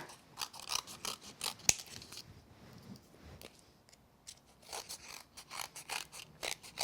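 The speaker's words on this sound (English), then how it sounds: "And we'll trim away the excess underneath here." Scissors snip through excess paper while trimming a card-making layer, a run of short close crisp cuts in quick clusters with a few pauses, no talking.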